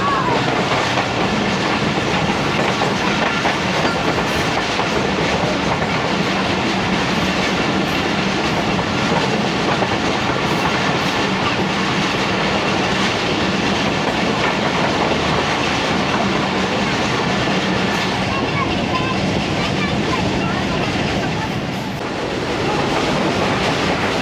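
Tezgam 7 Up express passenger train running at speed through the countryside near Eminabad, Pakistan, a loud, steady rumble with rhythmic clickety-clack of wheels on rail joints throughout, heard from on board.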